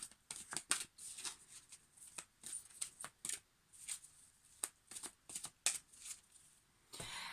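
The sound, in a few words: shuffling Quantum Illumination Guidance oracle cards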